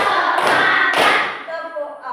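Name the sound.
class clapping in counted rhythmic pattern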